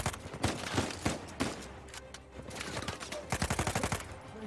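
Gunfire in the Uncharted 4 video game: bursts of rapid automatic shots and single cracks, fairly close, with a brief lull in the middle before another quick volley.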